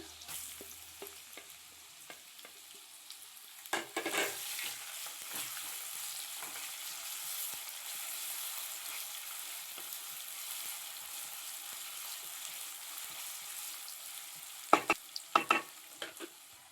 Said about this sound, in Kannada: ಈಗ ತುರಿದಿರೋ ಮಾವಿನಕಾಯಿ ಹಾಕೋತಿದ್ದೀನಿ